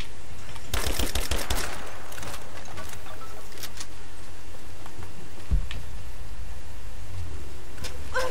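Gunfire in Rise of the Tomb Raider, a rapid burst of shots early on, then scattered single pops and clicks over a quiet ambient background.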